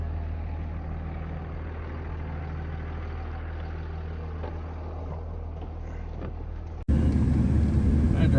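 A truck towing a camper rolls down the road with a steady low engine drone and road rumble, which abruptly jumps to a louder, harsher roar near the end.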